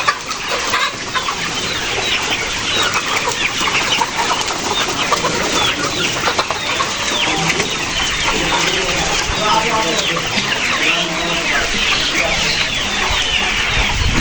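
Many chickens cluck and squawk together at a busy poultry sale in Birampur, Dinajpur. The flock sounds close and continuous, with faint voices mixed in.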